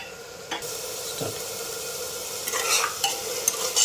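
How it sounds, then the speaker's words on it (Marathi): A spoon stirs a masala rice mixture in a pan over a soft, steady sizzle of frying onion and tomato, with a few scraping knocks against the pan. "परत एकदा मिश्रण चांगलं हलवून घ्यायचं आहे आणि ते होऊ द्यायचं आहे"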